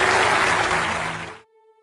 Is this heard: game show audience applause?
yes